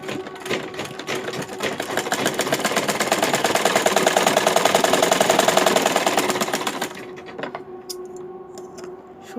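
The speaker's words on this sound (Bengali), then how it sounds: "সেলাইটা আমরা ডাবল দিব, তাহলে মজবুত হবে।" Sewing machine running a double stitch on baby underwear pants, a steady fast mechanical whir that swells and holds for several seconds, then stops, leaving faint clicks and handling noises.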